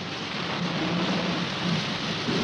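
Heavy rain pours in a dense, steady hiss with a low rumble of thunder beneath it, continuous and close throughout.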